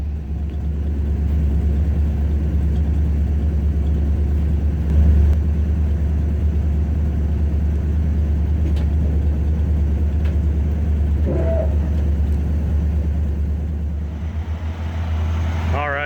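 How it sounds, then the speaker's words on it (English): A Ford F-100 truck with over 200,000 miles idles on a cold morning with no choke, giving a steady, low, even engine rumble close by, with a few faint incidental noises near the end. "it's pretty cold and we're idling just fine"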